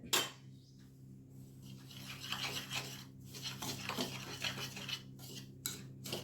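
A spoon stirs snack batter mixed with chili powder in a bowl, producing quiet, close scraping and clinking of metal against the dish in an uneven rhythm over a steady low hum.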